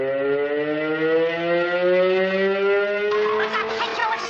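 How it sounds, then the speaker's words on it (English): Prison alarm sirens wail continuously in a 1950s cell-block riot, steady rising tones sounding loud and sustained for the whole stretch, with rougher noise creeping in near the end. "Hey, Joe, what's the sirens for?"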